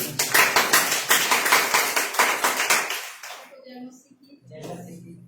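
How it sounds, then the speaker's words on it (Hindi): An audience claps enthusiastically to welcome a testimony at a religious gathering, with several seconds of strong, rhythmic applause that dies away before a voice begins speaking. "तो आइए जोरदार ताली से स्वागत करें।"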